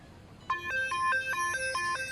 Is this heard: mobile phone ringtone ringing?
yes